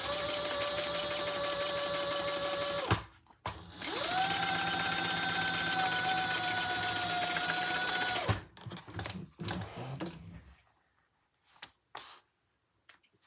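A sewing machine stitching a makeup bag whirs steadily in two long close runs with a motor whine, a brief pause between them, then a few short taps and near silence.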